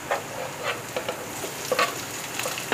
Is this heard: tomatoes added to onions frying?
yes